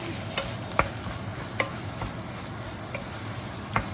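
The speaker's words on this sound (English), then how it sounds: "You want to mix this up pretty thoroughly and quickly as well so that the egg coats all your grains of rice" Egg and rice for bacon fried rice are stir-fried over a steady, dense sizzle, with occasional sharp clinks of a utensil against the pan at irregular intervals, close and loud.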